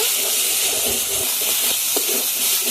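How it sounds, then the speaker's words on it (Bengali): Tomato puree with salt fries in oil until the oil separates, producing a loud, unbroken hissing sizzle close up, with a few soft bubbling pops and no voices. "টমেটো পিউরিটা তেল ছাড়া পর্যন্ত কষিয়ে নেব।"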